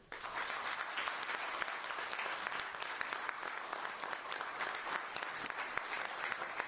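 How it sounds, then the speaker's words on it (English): An audience at the Indian Chamber of Commerce in Mumbai applauds at the close of a speech, a sustained and even wash of many hands clapping that fills the room from start to finish. "once again, a huge round of applause for Shri Piyush Goyal ji"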